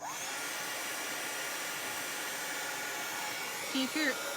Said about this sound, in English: Point your heat gun away from your transfer so you don't melt it